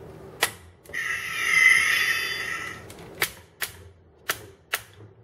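A Transformers Supreme Starscream toy emits an electronic sound effect when its arm is raised, a sustained bright tone lasting about two seconds, followed by several sharp clicks from the moving toy arm, close and alone.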